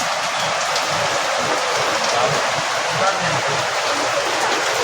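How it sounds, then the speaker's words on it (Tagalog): Heavy rain pours down in a sudden downpour, a dense, loud, unbroken hiss that fills the scene from start to finish with no break in intensity. "Pabugso-bugso talagang ulan."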